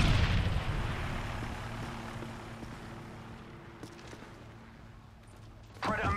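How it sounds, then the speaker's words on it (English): A stun grenade detonates in Modern Warfare 3 with a loud, broad blast at the start, then a long rumbling, ringing decay that fades over several seconds before a brief burst of noise near the end. "Throwing a stun grenade!"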